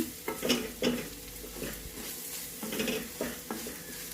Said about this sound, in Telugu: ఇవన్నీ బాగా కలిపి మసాలాలన్నీ వేగనిద్దాం మాడకుండా వేయించుకోవాలండి వీటిని